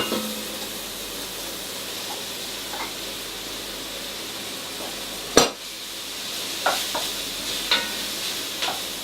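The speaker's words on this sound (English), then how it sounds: "we will add the leek into the pot as well" Leek going into a pot on the hob and being stirred during vegan batch cooking: a low steady sizzle with one sharp clatter midway and a few lighter utensil scrapes and taps afterwards, no voices.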